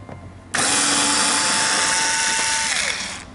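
Power tool loosening screws on the front of a Citycom 300i scooter, a loud, steady high whine starting abruptly and running for over two seconds before tapering off, with no talk.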